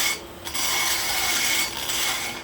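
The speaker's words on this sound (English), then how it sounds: "I take some metal out of it with the rough burr, then I'll hit it with my double cut" A rough rotary burr grinds metal from the port of a Ford GT40P cylinder head, a continuous high rasping whir that dips briefly as the tool lifts and then resumes, close and loud with no voices.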